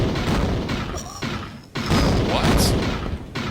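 Rocket explosions in the Tomb Raider video game, a few loud booming blasts with crashing debris over game ambience, ending in a sustained heavy rumble.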